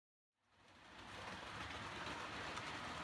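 After a brief silence, a Hornby HST model train fades in and runs steadily with a soft rolling rumble and faint rail clatter, growing louder.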